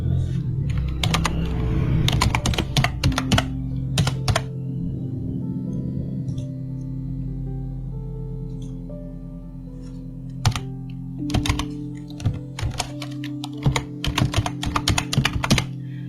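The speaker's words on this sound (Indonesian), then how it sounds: "maka bisa saya ketikkan di sini." Fingers typing an email address on a computer keyboard, a run of clustered key clicks and thunks, near and fairly loud, with a quieter pause in the middle before more bursts of keystrokes.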